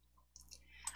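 A computer mouse clicks faintly a few times in a quiet room during block coding, small light taps with nobody talking.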